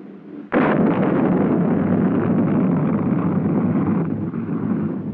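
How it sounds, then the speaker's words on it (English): A Pershing guided missile's first-stage rocket motor ignites with a sudden loud blast and settles into a sustained, roaring, broadband thrust that continues steadily for several seconds, heard alone with no talk. "Following the initial thrust provided by ignition of the first stage rocket motor"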